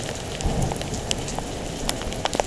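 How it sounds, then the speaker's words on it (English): Heavy rain splashing onto the ground on a stormy night, a dense continuous hiss of drops with scattered sharper splats throughout, close and steady with no talking. "The sound of the rain on the ground, splashing."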